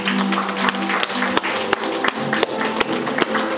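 Wedding guests at a registry ceremony applaud steadily, dense clapping with sharp individual claps standing out, fairly loud and close, with a faint voice underneath.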